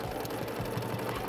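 Sewing machine quilting fabric along a rose ruler, a fast, steady mechanical stitching hum with rapid regular pulses, close and continuous for a brief moment.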